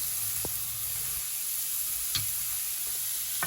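Shrimp sizzle in a hot pan as they go in, a steady bright frying hiss with a few soft clinks and knocks of stirring, no voices.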